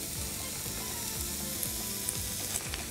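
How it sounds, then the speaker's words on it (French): Spinach sizzles and crackles in a pan of hot olive oil, an even, continuous frying hiss with faint stirring clicks and no voices. "un petit filet d'huile d'olive et je vais rajouter des épinards"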